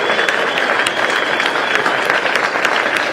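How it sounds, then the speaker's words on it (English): Crowd applause at the opening ceremony of the 2023 PDGA disc golf World Championships, honoring Smuggler's Notch resort: a dense, steady wash of many hands clapping throughout, fairly close and loud, with scattered sharper claps. "one more big round of applause for Smuggler's Notch"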